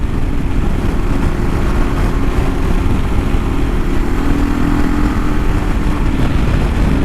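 A 2022 Kawasaki KLR 650 motorcycle rides along a road, giving a steady, loud low rumble of engine and road noise that stays constant the whole time.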